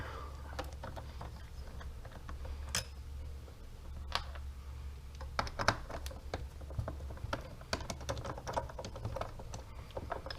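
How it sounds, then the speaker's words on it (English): A T20 Torx bit is worked against small screws to free a mass airflow sensor from a Dodge Hellcat's intake tube, giving light, irregular ticks and clicks of metal on metal over a low, steady background hum. "I'm using a T20 Torx bit on a MAS airflow sensor."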